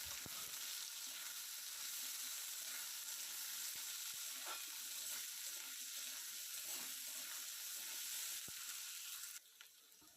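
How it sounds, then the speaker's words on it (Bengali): Potatoes frying in oil in a pan, a steady close sizzle with occasional sharp pops and stirring scrapes, continuous and without talk until it quiets near the end. "তো দেখো আলুটা অনেকটাই ভাজা ভাজা হয়ে গিয়েছে"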